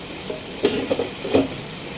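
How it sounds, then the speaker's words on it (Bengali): Mola fish curry being stirred in a pan after the lid comes off, a few soft scrapes over a steady low sizzle, close and quiet with no talk. "একটু নেড়ে চেড়ে দেব।"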